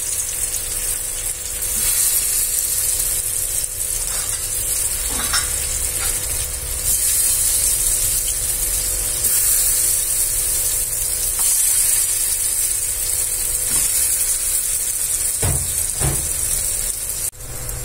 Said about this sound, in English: Now slowly lay all these cutlets, potato seed cutlets, line by line for shallow frying.